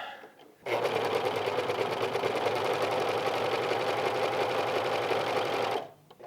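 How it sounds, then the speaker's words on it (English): A serger overlocks the raw inside edges of a band-collar button-up shirt, running in one steady, fast, close-up burst of about five seconds, with quiet moments before and after. "I realize I forgot to serge the raw edges all the way on the inside here, so let me just real quickly do that"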